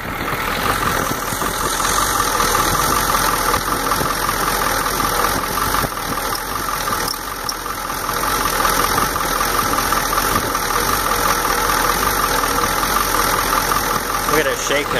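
A warmed-up 1993 Ford F-250 with a 7.3L IDI diesel engine idles rough, with a loud, close, continuous clattering rumble that never lets up.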